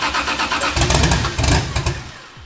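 A Toyota 1JZ engine in a BMW E36, with no coolant, intercooler piping or exhaust, cranks and briefly catches on its first start attempt, loud and close with rough bursts of rumble before dying away.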